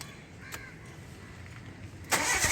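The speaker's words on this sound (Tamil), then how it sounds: "வண்டி இப்போ ஸ்டார்ட் பண்ணுறேன்" A Mitsubishi Lancer with a rough idle starts up: a quiet lead-in with faint clicks, then the engine catches suddenly and runs loud and steady close by.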